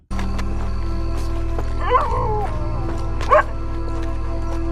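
A dog in Red Dead Redemption 2 barks in a few short yips and whimpers over a steady low game ambience, with brief voice-like sounds in the mix.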